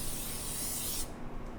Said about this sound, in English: Just spray it and then we'll line it with some parchment paper